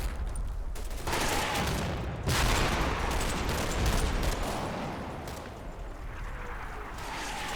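Battle gunfire from the Combat Mission war game, with dense fusillades of rifle and machine-gun shots crackling continuously, several louder bursts and distant rumbling blasts, no speech.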